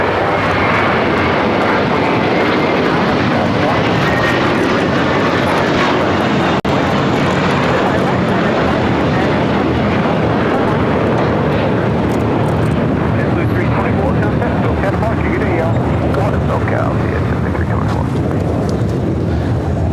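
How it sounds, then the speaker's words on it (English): An Airbus A321 jet rolls down runway 25 right at LAX on takeoff for JFK, a loud steady engine roar filling the whole stretch close by, with voices talking over it. "A321 now rolling down at 25 right. It's flight 324 taking off to JFK."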